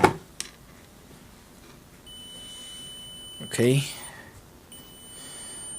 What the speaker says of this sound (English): there's that beeping sound again